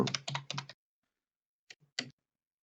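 Several quick clicks on a computer keyboard as a short word is typed, a burst of rapid keystrokes followed after a pause by a couple of isolated taps, close and clear in an otherwise silent room.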